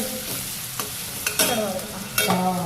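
Onions sauté in butter and oil over a low gas flame for pav bhaji, with a soft continuous sizzle broken by several sharp spoon-against-pan stirring knocks; a voice briefly says one word.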